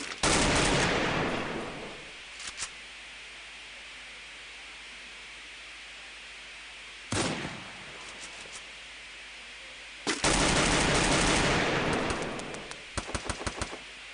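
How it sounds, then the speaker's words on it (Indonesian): Bursts of rapid gunfire in Free Fire, loud noisy volleys separated by quieter stretches, with a long sustained burst near the end. "nampaknya sudah ada suara tembakan-tembakan"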